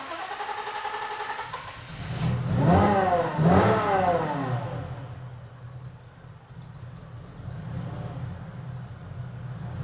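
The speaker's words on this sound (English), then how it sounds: "We're going to give it a bit of a start and see how it runs." A modified Toyota IS200 with rescaled 850cc injectors cranks, catches and revs in two sharp rising bursts, then settles into a rough, loud idle nearby with a hint of exhaust leak.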